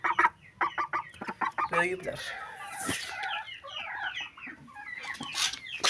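Chickens cluck and chatter in a backyard coop where newly moved chicks and poultry are kept, with several busy clucks and calls packed close together, nearby and fairly loud, under a person talking.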